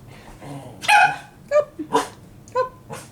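A puppy lets out several short, sharp barks and yips with whimpering tones, close by, coming in uneven bursts separated by brief quiet gaps.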